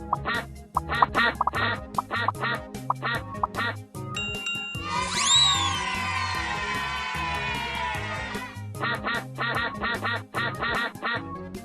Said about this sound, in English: Oh no! All the ducks have escaped! Put all the ducks in the pond.